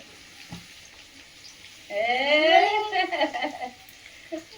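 Potatoes sizzle and crackle steadily in a frying pan, with a voice talking over it partway through.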